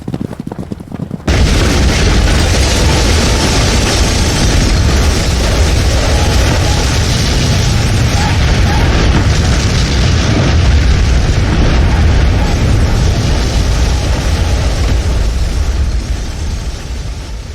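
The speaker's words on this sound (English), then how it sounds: "The explosion was heard by every single person within 30 miles of the tower." A tower exploding in the video game Manamon, a sudden loud blast that opens into a long, dense, roaring rumble holding steady for many seconds, with no talk.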